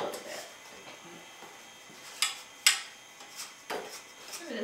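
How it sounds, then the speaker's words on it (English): Scraping a mixing bowl of sticky yeast dough, with a few sharp scrapes and knocks against the bowl over a quiet room tone, and faint voices nearby. "scrape the bowl a little bit"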